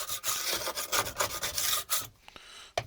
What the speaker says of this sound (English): I'm not scraping very hard